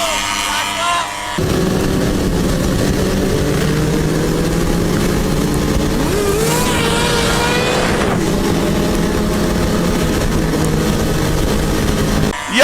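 80cc two-stroke motorized bikes race past in a loud, continuous buzzing engine drone that rises and falls in pitch as they pass, with faint voices underneath.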